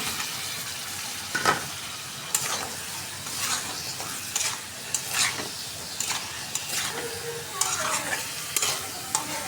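Spice paste frying in a pan while a spoon stirs it, making a steady sizzle with repeated scraping strokes at an uneven rhythm, close and moderately loud, with no talking.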